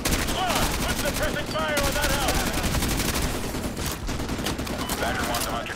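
Sustained heavy gunfire rattles without pause as a squad lays down suppressing fire on a house in Call of Duty: Modern Warfare 2, dense bursts layered with shouted voices and whistling effects.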